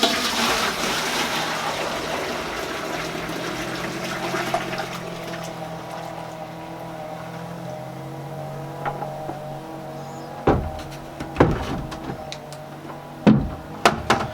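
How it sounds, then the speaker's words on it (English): Lilac dye liquid poured back into a pot, an initial gushing splash of liquid that trails off into quieter trickling, followed by several sharp clanks and knocks of the pot and vessel near the end. "I'm going to pour this back into the pot."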